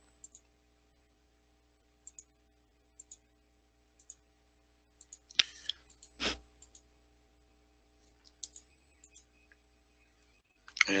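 Sharp, isolated mouse clicks advance PowerPoint animations, coming roughly once a second in a quiet room over a low hum, with a few louder knocks and rustles partway through and near the end.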